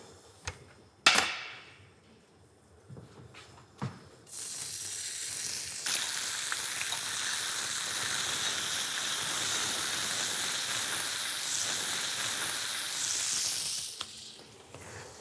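Bacon halves hit a pan with a drop of oil and break into a loud, even, continuous sizzle at close range, preceded by a few knocks and clatters and fading near the end.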